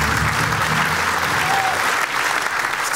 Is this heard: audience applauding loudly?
yes